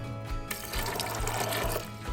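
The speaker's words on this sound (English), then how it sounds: "here's our 4 cups of water. We're gonna pour this in" Four cups of water pour into a cooking pot in a kitchen, giving a close, continuous splashing gush with brief pulsing dips, no talking.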